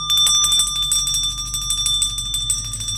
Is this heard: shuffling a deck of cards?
no